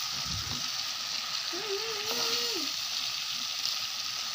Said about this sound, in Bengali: দেখো মাংসটা কি সুন্দর করে ভাজা হইতেছে